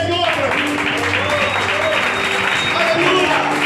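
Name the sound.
congregation applauding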